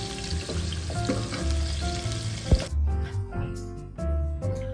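Curry ingredients fry and sizzle loudly in a pan, with a brief clatter of a utensil midway, then a quieter stretch as the hiss continues under background music.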